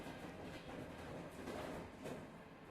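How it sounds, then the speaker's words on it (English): A train passes in a VRChat virtual world, a steady rolling rumble with rhythmic clickety-clack of wheels, fairly quiet and continuous throughout. "I think the train's always loud."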